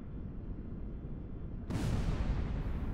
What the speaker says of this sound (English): Boilers are exploding as water comes down into the engine rooms.